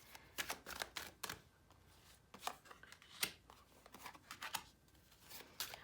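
Keepers of the Light oracle cards shuffled by hand in quick, soft riffling bursts and taps, close and quiet, with no talking.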